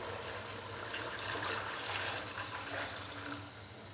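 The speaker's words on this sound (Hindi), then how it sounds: "तो अभी मैं इसके अंदर डालूँगा पानी।" Water is poured into a pot of spiced tomato rice, a soft continuous splashing and trickling that holds steady for a few seconds at low volume.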